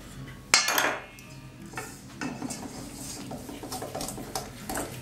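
A spoon scrapes and clinks against a bowl while melted chocolate is stirred into crisp feuilletine flakes: close, uneven scraping with a sharp knock near the start, then steady rhythmic stirring.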